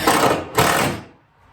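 An impact driver fitted with a number 2 square bit driving screws into shed shelving: two short, close, loud whirring bursts back to back, then the motor winds down and stops.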